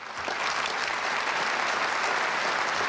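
Dense, steady applause from a standing audience at a handover ceremony for incoming president Paola Carron, a loud continuous roar of clapping that holds evenly from start to finish.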